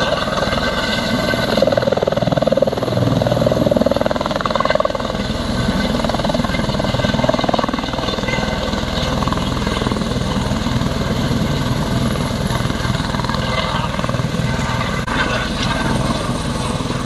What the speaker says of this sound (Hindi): ये रहा हेलीकॉप्टर। हल्द्वानी से पहुँच चुकी है यहाँ पे मुंशियारी, लैंड करने वाली जल्दी